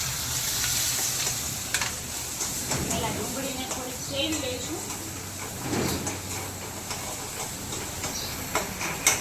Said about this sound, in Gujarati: આ રાઈને બધું એડ કર્યા પછી પહેલાં આપણે એમાં ડુંગળી નાખશું